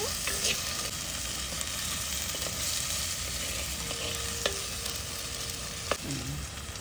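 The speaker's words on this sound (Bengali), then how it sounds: "তাতে পেঁয়াজ রসুন বাটা দিয়ে দিব" Onion and garlic paste frying in a pan for a dried-fish dish, a steady broadband sizzle with occasional scraping stirs and utensil taps, close and continuous.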